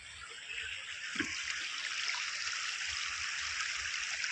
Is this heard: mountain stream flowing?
yes